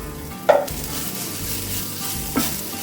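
Softened tomatoes with cumin powder stirred in a hot pan under a steady loud sizzle, with two distinct utensil scrapes against the pan.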